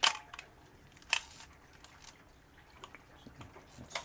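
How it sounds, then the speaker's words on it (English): Shutter clicks from a Fujica ST801 35mm film SLR with a 50mm lens, two sharp, close clicks about a second apart, followed by softer mechanical handling noises. "Shutter sounds wonderful."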